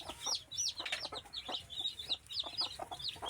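A native hen and her newly hatched chicks make a faint, close mix of soft clucks and rapid high peeps, repeating unevenly without talk.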